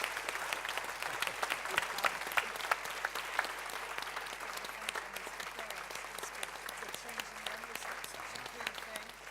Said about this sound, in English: Another round of applause for Tessa and our panel.